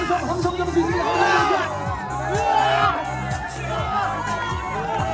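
Crowd at an elementary school alumni sports day shouts and cheers in a loud, continuous roar, with whoops and children's voices rising over a steady rhythmic thumping of drums or clapping.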